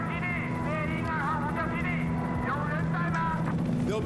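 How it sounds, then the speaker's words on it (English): Helicopters approach in the Battlefield 4 campaign at the Kunlun Mountains, a steady rotor and engine drone under game effects and loud overlapping voices. "You can hear choppers."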